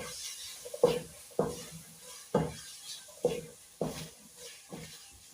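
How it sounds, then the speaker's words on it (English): A spoon scrapes and knocks against a cooking pot while beans and greens are mixed, five or six distinct clanks at irregular intervals over a quiet background. "Today we have to mix our protein and our green."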